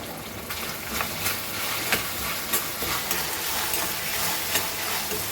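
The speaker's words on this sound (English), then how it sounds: "Fry this all nicely." Fennel seeds and cauliflower for a Goan cauliflower bhaji fry in a pan with a continuous close sizzle. Light clicks of stirring recur every half second or so.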